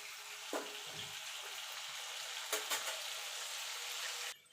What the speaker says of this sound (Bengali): গাটি কচুগুলো লাল লাল করে ভাজা হয়ে গেছে।